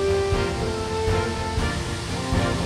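Sambambo waterfall in the Mamasa mountains of West Sulawesi pours heavily, giving a steady, loud, close roar of rushing water with no break.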